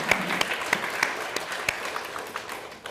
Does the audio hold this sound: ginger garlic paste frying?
no